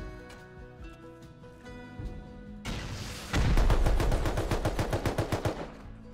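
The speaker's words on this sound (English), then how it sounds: "Oh, I forgot about the turrets." Automatic turrets in the Rust video game fire a rapid burst of sharp gunshots close by, about a dozen evenly spaced cracks in a fast rhythm after a short build-up of background game sound.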